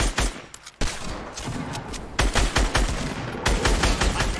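Rapid bursts of gunfire crackle through a Fortnite match, with repeated sharp shots and dense volleys that stop briefly, then resume loud and close.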